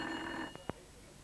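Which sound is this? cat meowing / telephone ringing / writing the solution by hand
telephone ringing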